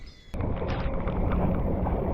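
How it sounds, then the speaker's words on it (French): An outboard motor drives a small fishing boat across open water, starting abruptly after a quiet moment and then running as a steady, close, broadband drone with wind and water wash mixed in. "c'est là que le moteur est intéressant quand même"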